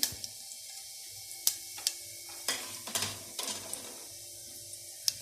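Cumin seeds crackle and sizzle in hot oil for a Kerala parippu curry, with sharp pops and stirring clatter over a low steady frying hiss at moderate distance, no speech.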